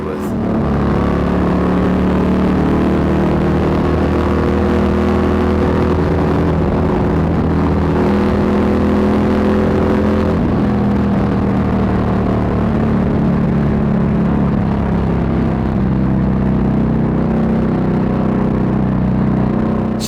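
Harley-Davidson Street Glide Special with a Milwaukee 8 engine, Stage IV tune and ThunderHeader exhaust, loud deep rumble steadily running and revving through the whole stretch, close and continuous, with someone talking over it.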